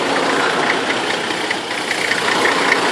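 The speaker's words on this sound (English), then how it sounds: "So here's the engine inside." A Nissan GU Patrol engine idles with the bonnet open, a close, loud, steady mechanical churn with a slight knocking texture running evenly the whole time, no talking.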